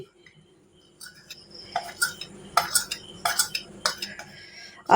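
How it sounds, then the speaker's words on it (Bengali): A pinch of baking powder stirred into a mixture for komola bhog, with quick clinking scrapes of a spoon against a bowl in uneven bursts, close and fairly light, no talking. "আমি এই সময় এই ওয়ান পিঞ্চ বেকিং পাউডারটাকে মিশিয়ে দিচ্ছি"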